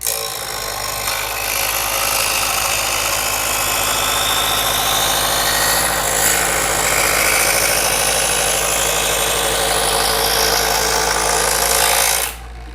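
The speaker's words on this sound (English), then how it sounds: "let us see if we sharpen it one more time, how this looks" An electric knife sharpener, model QN-M801, grinds a knife blade with a loud, continuous buzzing whir over a low motor drone. The sound holds steady for about twelve seconds, then cuts off sharply.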